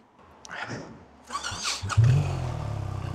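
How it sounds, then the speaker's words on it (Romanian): A motorcycle engine starts and settles into a steady, throbbing idle to warm up on a street, preceded by brief rustling and a person speaking close by. "trebuie să las motorul un minut să se încălzească"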